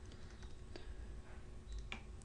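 Code typed on a computer keyboard during a Visual Basic programming session, with faint, close, irregular key clicks over a low steady hum and no speech.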